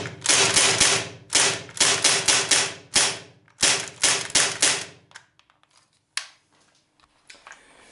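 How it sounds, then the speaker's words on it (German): A Heckler & Koch MP5 K-PDW CO2 4.5 mm steel BB gun fires blowback shots in several rapid bursts of loud, sharp mechanical clacks, followed by a few scattered softer clicks. "Ich zeige euch mal eben den Blowback-Effekt."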